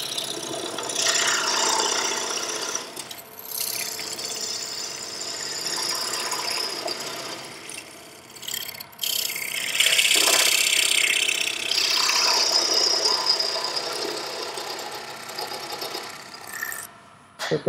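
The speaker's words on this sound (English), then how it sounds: "I did turn the lathe speed down a little bit for this." A wood lathe running at reduced speed turns a wooden salt box while a tool cuts into it, giving a sustained scraping, rasping whir that rises and falls in intensity, close and continuous with no talking.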